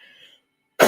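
One short, sharp cough right at the end, close and loud, following a faint tone and a moment of silence.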